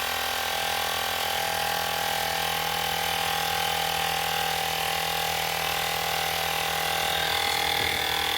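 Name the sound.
160 PSI portable tire inflator pumping up a tire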